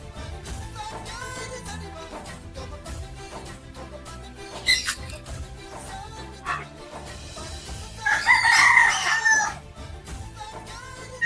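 Colombian Brahma and other fancy chickens on a farm, with a rooster crowing loudly up close over a background of clucking and farmyard noise, no one speaking.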